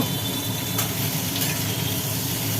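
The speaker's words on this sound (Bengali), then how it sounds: "আনাজগুলো বেশ করে ভাজি করে নেওয়া হলো" Constant loud sizzling of vegetables frying in hot oil, with a couple of brief stirring scrapes.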